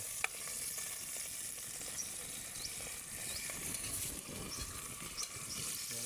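Ginger sizzles in hot oil over a strong fire in a rural province kitchen, a steady bright crackle throughout with faint stirring clicks and scrapes, close by and with no voices.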